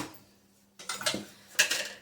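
Spoon clinking and scraping against a metal pot while pongal ingredients with salt are mixed, two short bursts of clattering stirring after a quiet start, fairly close with no talk.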